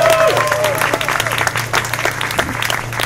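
Audience cheering and applauding as a professor walks on for an evening talk, dense steady clapping with whoops throughout, fairly loud and close.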